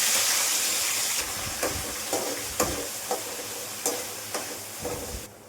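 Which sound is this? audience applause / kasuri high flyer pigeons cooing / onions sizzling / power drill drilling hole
onions sizzling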